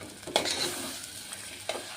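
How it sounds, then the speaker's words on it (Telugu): Sweet potato pieces fry in ghee in a pot while being stirred, a soft steady sizzle with a couple of sharp scraping clinks of the spoon, close and fairly quiet. "నెయ్యిలో స్వీట్ పొటాటో ఒక 2 minutes ఫ్రై అవ్వాలి."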